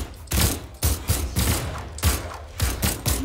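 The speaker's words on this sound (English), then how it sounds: "Back to the gun battle." Rapid bursts of gunfire in a Brawlhalla 1v1 match, loud and close, firing in quick repeated volleys separated by brief gaps.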